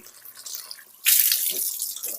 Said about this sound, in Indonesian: Air mengalir nih, tes ke sini, namanya mustakmal.